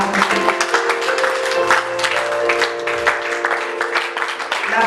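A church congregation applauds in praise during worship, a dense, steady clapping that fills the room for several seconds, with sustained musical tones running underneath.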